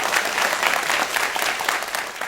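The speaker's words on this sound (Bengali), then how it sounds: "ওদের জন্য একটু জোরে তালি" An audience at an Islamic quiz show claps for a quiz team, a loud, close wash of applause that holds steady for a couple of seconds.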